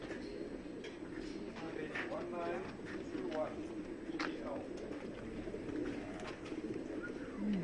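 Racing pigeons cooing at a final race basketing, soft repeated coos over a busy murmur of people talking and handling birds.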